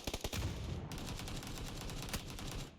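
Gunfire in the battle-royale video game PUBG: rapid, loud bursts of shots crack in quick succession, then keep rattling almost continuously to the end, with no talking over them.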